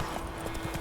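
Horse hooves clip-clop at a steady walking rhythm on a road in The Witcher 3, fairly close and constant over a low ambient bed with no talking.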